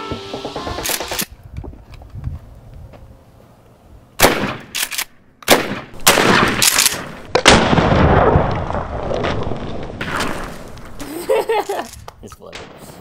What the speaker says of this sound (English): I shot them with a shotgun at the end of this